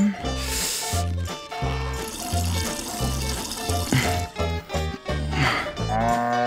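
Milk streams into a bucket from a cow in the Cow Milking Simulator mixed-reality game, rhythmic liquid squirts and splashes with cattle sounds over a steady background game music beat.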